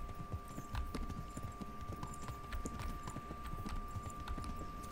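Horse hooves gallop steadily in Kingdom Come: Deliverance, a fast, continuous clip-clop of rapid hoofbeats that stays close and moderately loud over a busy outdoor background, with no talk.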